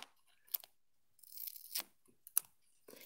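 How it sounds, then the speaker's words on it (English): Scissors cut through foam in short, separate snips and rasping strokes, close and quiet, with near silence between cuts. "It looks like you're cutting it every quarter inch."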